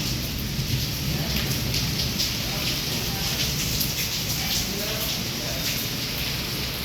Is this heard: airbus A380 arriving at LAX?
no